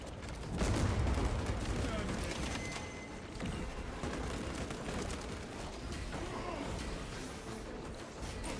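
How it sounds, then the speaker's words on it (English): A crack grenade goes off in Space Marine 2 horde mode, a heavy blast early on followed by continuous rumbling battle noise and gunfire, moderately loud and dense throughout. "Deploying crack grenade."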